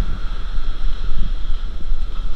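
Strong typhoon wind from Typhoon Tino roars across a beach in loud, buffeting gusts that batter the microphone, with a deep rumble and surging swells throughout.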